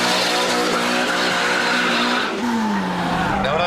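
Renault Clio 197 lapping the Cadwell Park circuit, engine howling loud and close with a rising and falling pitch through gear changes, tires squealing hard at the limit.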